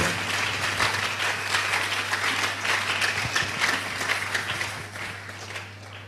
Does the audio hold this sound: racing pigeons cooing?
no